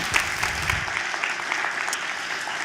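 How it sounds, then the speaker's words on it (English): An audience at a church fellowship event applauds, a brisk crowd of hands clapping densely and evenly with a few sharp claps standing out, steady to the end. "let's give them a big round of applause"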